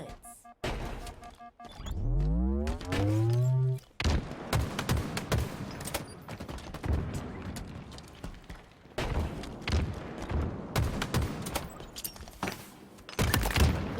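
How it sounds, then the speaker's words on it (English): Dense bursts of video game gunfire from a competitive squad scrim, rapid shots and thuds in clusters through the clip, loud and close, with a sweeping tonal effect early on and no talk. "Again, Hail of gunfire."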